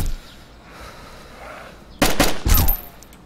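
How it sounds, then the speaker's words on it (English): Gunfire in the DayZ survival game: after a quiet stretch, two loud close bursts of rapid shots crack out in quick succession. "I know I shouldn't be just firing off rounds all willy-nilly like that"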